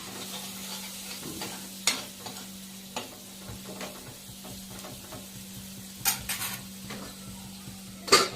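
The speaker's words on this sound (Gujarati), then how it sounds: "હળદર, ધાણા જીરું અને લાલ મરચું અને બરાબર તળવા દેવાનું" Turmeric, coriander-cumin powder and red chilli fry in a tomato gravy for sev tameta, giving a quiet, steady sizzle with occasional sharp spoon clicks against the pan over a faint hum.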